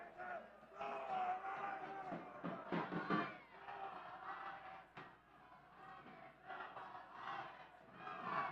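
A crowd of Blue Alliance supporters at a FIRST Robotics Competition event in Channelview, Texas, yells and cheers in a loud, echoing mass of voices that swells and dips throughout, with shouted calls standing out.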